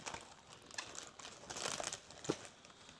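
A resealable food package crinkles and crackles in a few short bursts, close and fairly quiet, while egg-bite ingredients are prepared.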